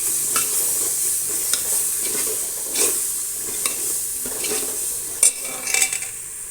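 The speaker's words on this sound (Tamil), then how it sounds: "இப்போ வெள்ளைப்பூண்டு போடலாம். வெள்ளைப்பூண்டை கிளறிக்குவோம். நல்லா கிளறிக்குவோம்." Garlic frying in oil for tomato thokku hisses continuously while a spoon stirs it, with sharp metallic clinks against the pan, more frequent toward the end.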